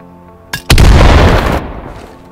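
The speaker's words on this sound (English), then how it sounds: "This is a pretty sick nade as well, on mid roof." A grenade thrown onto a rooftop in the WWII shooter Battalion 1944, a short pop followed by a single loud, close blast with a roaring tail that fades over about a second.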